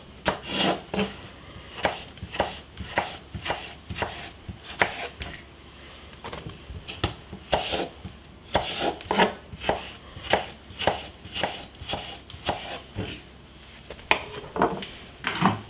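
A knife chops cucumber on a wooden cutting board for a vegetable salad, with a quick, steady series of crisp close thuds and short pauses between runs of strokes and no talking.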